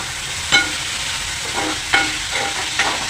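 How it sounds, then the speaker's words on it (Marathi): Chopped tomato sautéed with browned onion in a hot pan gives a steady loud sizzle, broken by three sharp spatula scrapes spaced about a second apart, with no talking. "त्यात टोमॅटो घाला आणि छानपैकी परतवा"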